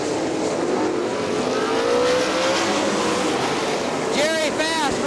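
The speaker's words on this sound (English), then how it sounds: "Underway with Mike Daggett as your race leader. Jason Bond running in second" Sprint cars with 410 engines race around an oval at a motor speedway, a loud continuous engine roar with passing pitch sweeps, close and steady, with a voice briefly heard near the end.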